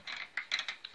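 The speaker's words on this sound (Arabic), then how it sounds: "اربط بالزرادية كده" Pliers tightening a fork part give a run of short, crisp metallic ratcheting clicks, several quick snaps in uneven bursts, close and clear with no talking.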